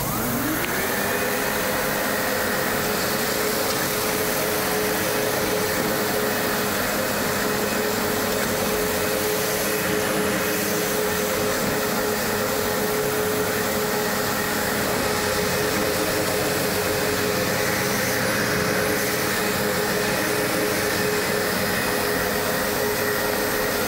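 A vacuum cleaner runs on a bare floor, spinning up quickly into a loud, steady motor whine that holds close and constant for the whole stretch.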